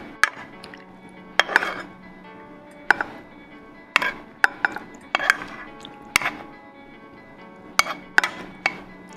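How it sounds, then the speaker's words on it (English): A spoon clinks sharply against the side of a bowl while stirring a spicy buffalo chicken mixture for wraps, with a dozen or so irregular metallic taps close by and no talk. "We're going to stir it and let it set"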